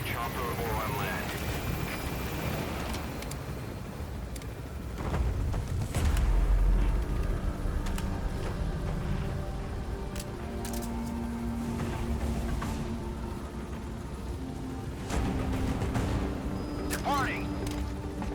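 A helicopter in Metal Gear Solid V arrives for an extraction from a hot zone, its rotor thrum rumbling throughout with swells, under radio voices and other game sounds.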